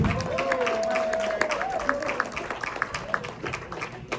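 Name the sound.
audience applause for comedian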